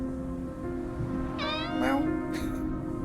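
Cat meows in the video game Copycat: two or three rising, harmonic meows in quick succession over a steady background hum, with a person talking faintly beneath.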